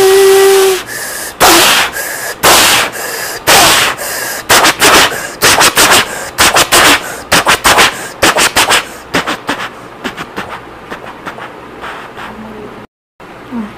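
A performer on a stage show imitates a train with his voice, sharp rhythmic bursts of breathy hissing and puffing that speed up like a locomotive chugging, loud and close, ending in a brief silence.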